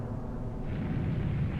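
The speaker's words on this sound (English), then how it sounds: "That's a big explosion." A big explosion rumbles in Final Fantasy VII as a dense, sustained low roar that swells slightly toward the end, loud and without any talking.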